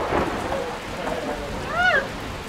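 Rain in a Roblox obby video game, a soft hiss of steady rainfall with a brief tonal chirp rising near the end, moderate and even throughout.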